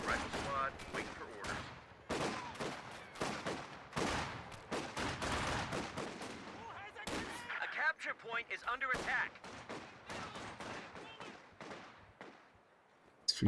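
Rifle volley fire in a strategy video game, with dense rapid bursts of gunshots and artillery-like bangs and short gaps between them, all under a commentator's voice.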